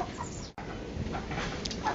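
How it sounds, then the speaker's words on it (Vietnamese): Chickens cluck and murmur close by in a steady, busy chorus, with a brief gap of silence near the start. "Đây chuồng gà."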